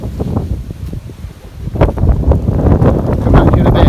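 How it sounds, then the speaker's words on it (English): Strong gusts of wind buffet the microphone at a campsite, rumbling and rustling throughout, growing louder toward the end. "It is very windy."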